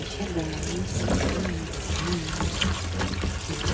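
Bitter gourd is washed by hand in salted water, with steady sloshing, pouring and dribbling water splashes close by, while a person talks over the sounds intermittently.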